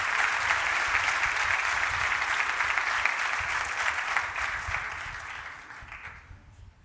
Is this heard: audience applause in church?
yes